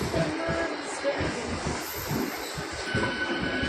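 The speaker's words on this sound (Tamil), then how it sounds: "லோக்கல் ட்ரெயின் வந்து போகுது. பாண்டி திருப்பதி டு பாண்டி, அந்த ட்ரெயின் தான் இது" A local Pondicherry–Tirupati passenger train rolls past close by, its rumbling wheels clattering in a rapid irregular rhythm over the rails, with a brief high squeal and faint voices in the background.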